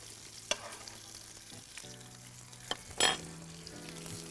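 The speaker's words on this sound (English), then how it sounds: "these bits of pork can go into this pan, and we want to give them a seal" Pork belly pieces searing in a frying pan, a soft steady sizzle with occasional clicks and a brief scrape of a utensil against the pan, fairly quiet and close.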